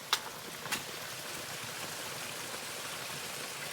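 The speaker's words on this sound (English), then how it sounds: "you can hear the water rushing." Creek water rushes steadily along a woodland hiking trail, a constant broadband hiss with two brief splashy taps near the start.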